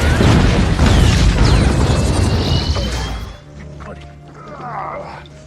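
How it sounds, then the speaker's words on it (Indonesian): A helicopter explosion in a film booms and roars with crashing debris, then cuts abruptly to a quieter scene with a voice talking. "yang membuat helikopter itu meledak seketika"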